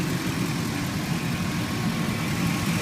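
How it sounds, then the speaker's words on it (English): A billboard truck's very quiet engine idles in an even, steady low hum and rumble, close by and continuous with no voices. "here's the engine of the vehicle. It is a very, very quiet engine."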